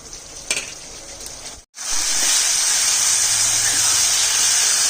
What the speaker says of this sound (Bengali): মশলা কষানো হয়ে গেছে তেল আর মশলা আলাদা হয়ে গেছে